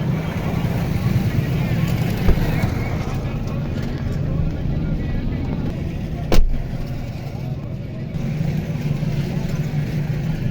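Cars and motorcycles pass along a crowded market street in Mianwali, Pakistan, making a loud, continuous engine rumble with a brief sharp bang, and voices are heard in the busy street throughout.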